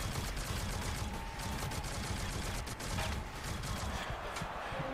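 Enemy gunfire in the Shadowgun Legends shooter game rattles in dense, continuous bursts across the whole stretch, loud and steady with little pause.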